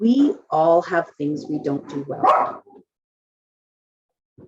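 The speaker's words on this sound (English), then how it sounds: "Sorry, that was my dog." A dog barks at home in a few short bursts, mixed in with a person talking steadily before the room goes quiet.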